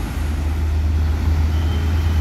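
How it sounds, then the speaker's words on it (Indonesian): A Sempati Star bus passing on a road, a loud, steady low engine rumble with a dense roadway roar that stays close throughout, no voices. "Ini bus Sempati Star."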